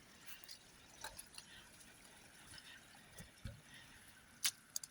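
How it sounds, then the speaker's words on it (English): Water drips in a hillside garden near a wide ditch, with scattered faint drops and a few sharper splashes over a steady low outdoor background. "Water definitely dripping there."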